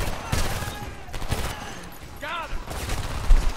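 Assault rifle bursts crack out in the Homefront video game, several loud bursts spaced through the scene, mixed with other game sounds and a brief voice.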